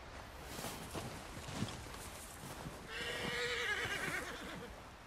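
A white Arabian horse in Red Dead Redemption 2 lets out a drawn-out, wavering neigh in the second half, after soft hoof shuffles and low rustling ambience.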